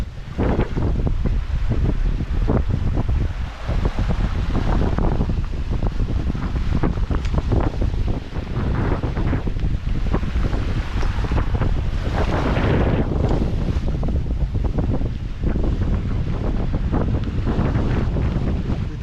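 Ocean waves and strong wind at sea aboard a sailboat running downwind under genoa near the equator, a loud constant rush of wind buffeting the microphone over surging, splashing water, close and unbroken throughout.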